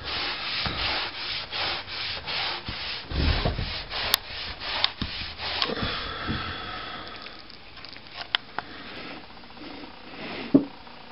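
Liquid finish is rubbed by hand into the wood grain of a 1934 RCA Victor 143 radio cabinet in quick, rhythmic back-and-forth strokes that are close and clear at first, then slow into softer, scattered rubs.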